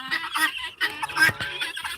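Chickens clucking and squawking in a backyard coop where guinea fowl roam, short busy calls overlapping close by, loud and continuous.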